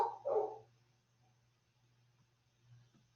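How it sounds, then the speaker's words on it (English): A dog barks twice in quick succession from a distance in a quiet home setting, then only a low steady hum remains. "Are you guys able to hear my dog barking"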